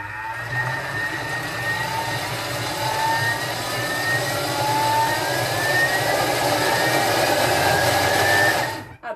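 A kitchen mixer runs at speed 10, blending cashew nut dough with freshly added water. It gives a loud, steady, close motor whir with a rising whine throughout, then cuts off abruptly at the end.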